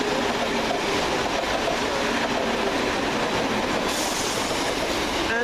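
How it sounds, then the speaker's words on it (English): Railway rolling noise at a station on a Midland Mainline rail trip, a steady loud rumble of passing carriages and wheels throughout, with a brighter hiss rising toward the end. "And this will be our train out there"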